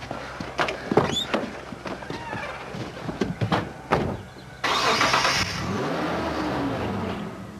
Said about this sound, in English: I heard my car start up and I could see that he was reversing out